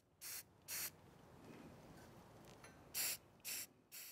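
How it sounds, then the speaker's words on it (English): A spray can puts primer and paint onto a steel weld in short hissing bursts: two early sprays, a pause, then three more in quick succession, fairly quiet and close. "apply one or two coats of primer and paint in one spray paint after cleaning the slag off the weld"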